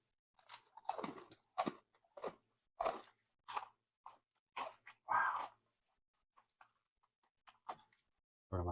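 Garlic bread being bitten and chewed close up, crisp crunchy bites and chewing bursts in an irregular rhythm with short pauses, no talking.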